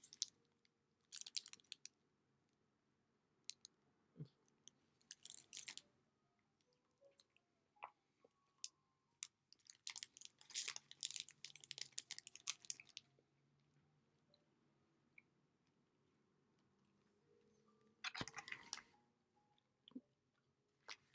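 Close, quiet biting and chewing of a banana-flavoured British snack: crunchy, squishy mouthfuls in scattered bursts with long still gaps between them.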